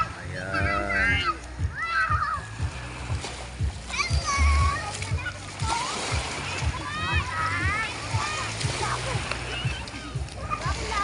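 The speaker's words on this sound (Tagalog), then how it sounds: "Ayan po yung paligid ng tabing dagat." Water splashing along a seashore with children's voices calling and chattering throughout, plus adult talk over a steady, busy beach ambience.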